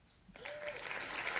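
Applause for a contest winner on a live online show starts abruptly and continues as a steady wash of many hands clapping, moderately quiet and unbroken by talk.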